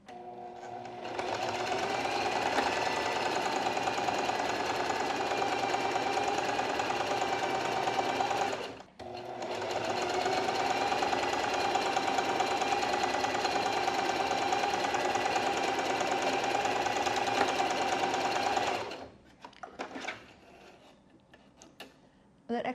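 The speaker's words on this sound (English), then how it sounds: "I'm changing to a zigzag stitch and I've got it on length" A home sewing machine running a zigzag stitch on a mini skirt, a fast steady mechanical whir that runs continuously, pauses briefly, resumes, then stops near the end.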